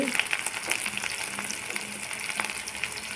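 Pepper, cumin, garlic and ginger sauté in hot oil for mint chutney, making a dense, continuous bright sizzle with small crackles throughout, steady and close, no talk.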